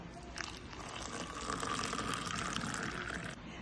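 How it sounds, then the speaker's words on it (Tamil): Hot water pours into a cup holding a spoonful of avaram flower powder, a continuous rushing, rising liquid stream lasting about three seconds, close and clear with no talk. "சுடுதண்ணியை ஊத்திக்கலாம்."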